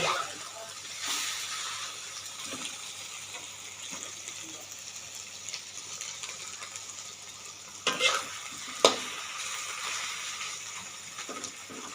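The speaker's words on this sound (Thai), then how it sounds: "ผัดจนมันแห้งนะคะ" A spatula stirs a tomato omelette mixture with minced pork in a frying pan, with a soft, steady sizzle under repeated scraping and a couple of sharper clanks near the end.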